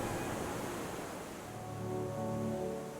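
Sea waves wash in at the water's edge at Point Calimere, a soft, continuous rush of surf with a faint swell and no voices.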